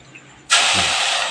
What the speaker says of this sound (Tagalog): Nasa tubig lang yung nagigisa